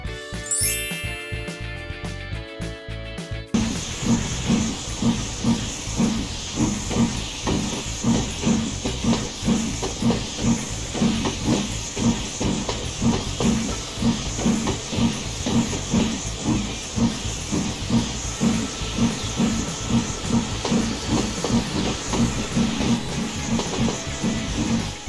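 A green steam locomotive chuffs steadily in a fast, even rhythm with a constant hiss of steam, loud and close, after a brief tonal opening of a few seconds.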